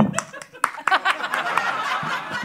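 Scattered, uneven claps from a comedy club audience at a live stand-up show, a handful of sharp hand claps mixed with chuckles and some talking.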